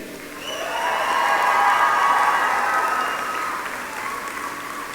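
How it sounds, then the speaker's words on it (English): Graduates at a university convocation ceremony applaud their families, friends, faculty and staff, a steady wash of crowd clapping in a large hall, swelling and then easing off. "reciprocate by applauding your family, friends, faculty, and staff"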